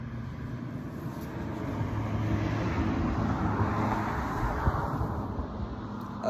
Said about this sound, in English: Another car coming, that's crazy